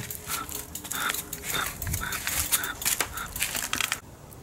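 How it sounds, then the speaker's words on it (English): Scratching from an ebike front hub motor axle as the bike is walked, a screw rubbing against the fork, giving a rough, irregular grinding rasp close by that stops near the end. "The scratching noise comes from the screw touching the fork."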